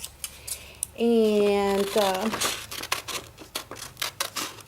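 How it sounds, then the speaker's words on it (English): Scissors snip through paper while cutting out wings for a decorated composition book, a run of short crisp cuts that follows a brief stretch of voice nearby. "now I'm just gonna cut the wings"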